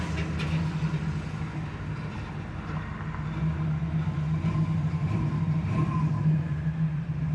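A 1979 Chevy Camaro Z28 V8 idles steadily at low revs, a close, even rumble that holds without change throughout and carries no talk over it.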